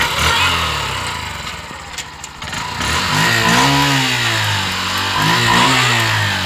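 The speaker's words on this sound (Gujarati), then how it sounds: "બાઇક નો અવાજ આવે" A new motorcycle's engine runs close by, idling roughly, then revving up with rising, wavering pitch and holding a strong, steady drone.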